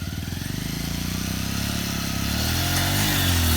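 A stunt motorcycle at a bike stunt academy in Delhi, its engine held under steady throttle, a loud, close, continuous buzzing drone that rises slightly in pitch toward the end, with no talk over it.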